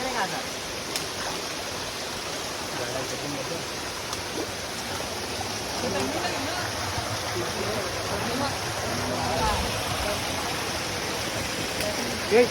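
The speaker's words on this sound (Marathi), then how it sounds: "उतरताना थोडी भीती वाटते कारण का पाण्याचा फ्लो खूप आहे" Fast water from a stream rushes over rocks on the trek route at Malanggad, a loud continuous close roar with people talking over it.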